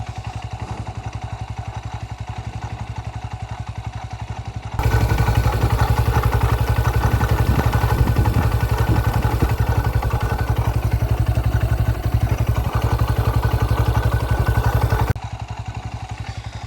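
A Honda Hornet 125 motorcycle engine idles with a steady low rumble, then revs louder for about ten seconds before dropping back to a quieter idle.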